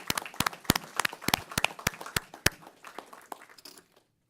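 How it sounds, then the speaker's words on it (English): Applause for Public Works staff at a county Board of Supervisors meeting: sparse, sharp individual claps from a modest audience, irregular and fairly close, thinning out and stopping near the end. "I think you deserve a big hand of applause for the work."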